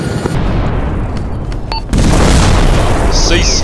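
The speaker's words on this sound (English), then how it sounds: "Cease fire on the artillery, cease fire on the artillery." A heavy artillery blast lands in the Vietnam-era game Arma 3 SOG Prairie Fire, a loud broadband boom that swells at once and holds over a dense wartime din, with a voice talking over it.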